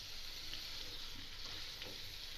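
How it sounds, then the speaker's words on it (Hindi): Yogurt sizzles softly in a pot while being lightly fried for aloo chicken korma, a steady faint hiss of frying with slight stirring texture throughout. "हल्का सा भूनते हैं"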